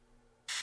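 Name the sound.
airbrush spraying primer paint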